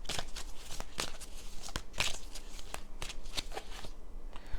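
Tarot cards shuffled by hand in a quick series of crisp riffling slaps and flutters, close and fairly quiet, with no speech.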